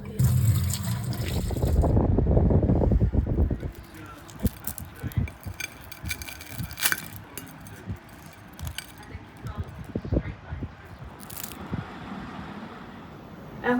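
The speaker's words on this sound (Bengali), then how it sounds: "আমটা একটু ধুয়ে" A mango being washed under running water, opening with a loud gushing rush of tap water, then lighter splashing, dribbling and rubbing sounds up close.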